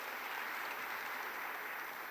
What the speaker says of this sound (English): A big round of applause for Kendall